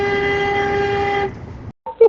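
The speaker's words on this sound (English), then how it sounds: "I'm loving these noises and honks and all this going on." A loud, sustained car horn blast holds for over a second then cuts off, followed by a brief pause and a short second honk, at a trucker convoy protest in Ottawa.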